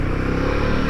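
A Royal Enfield Himalayan 450 motorcycle on a coastal ride at Gosport gives a brief, steady, close engine drone with a fast low throb and wind noise, with no voices.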